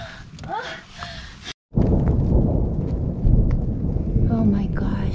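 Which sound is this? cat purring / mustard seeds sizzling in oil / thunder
thunder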